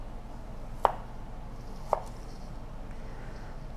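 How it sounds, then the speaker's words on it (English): Garlic being sliced thinly with a sharp new knife on a cutting board: two crisp, isolated knife strikes about a second apart against a quiet background. "The garlic needs to be thinly sliced."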